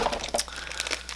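Soft cellophane wrapping around a mail package crinkles as it is handled, a quick run of crackling rustles up close.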